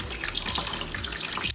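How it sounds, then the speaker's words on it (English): Tap water runs steadily into a sink as tilapia is rinsed under it, a close, continuous splashing hiss with no voices. "Make sure you wash them under running water"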